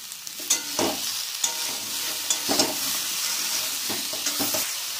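Cauliflower florets fry in oil in a pan with a steady close sizzle and hiss. A spatula stirs and scrapes them now and then, adding soft knocks over the continuous frying.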